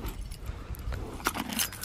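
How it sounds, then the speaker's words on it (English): A bunch of keys jangles in a few quick metallic shakes near a barn, over low outdoor background noise. "I have keys."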